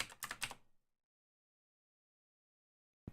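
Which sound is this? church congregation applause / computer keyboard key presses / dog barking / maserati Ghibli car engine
computer keyboard key presses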